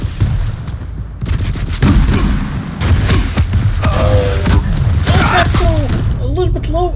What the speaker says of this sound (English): Oh, misses that rail. That rocket was good.